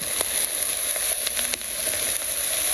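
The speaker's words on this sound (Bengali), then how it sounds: "এখন শাক দিয়ে দিব," Greens added to a pan of fried onion and green chilli hiss in hot oil, a steady close sizzle with a few sharper crackles, no talk.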